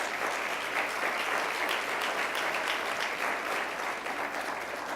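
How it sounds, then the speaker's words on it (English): Sustained applause from an audience at a Columbus neighborhood forum, honoring city council members, a steady even crackle of many hands throughout with no talking. "Can you give them a round of applause?"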